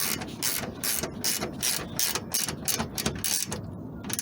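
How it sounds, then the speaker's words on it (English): Rapid bursts of an 11mm (7/16-inch) ratchet wrench clicking in repeated back-and-forth strokes, tightening bolts on a solar panel mount on a van roof, close up, with brief pauses between strokes and no talking. "this ratcheting 11mm or 7/16 is really helpful for this"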